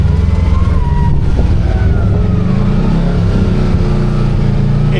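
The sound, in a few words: Kawasaki KRX 1000 engine and throttle in crawling mode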